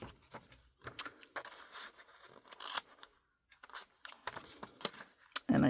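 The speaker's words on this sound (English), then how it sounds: "I take my scissors and I cut." Scissors snip the edges off a paper envelope for a handmade card, giving a run of short, close crisp cuts with brief pauses between them and quiet handling noise around them.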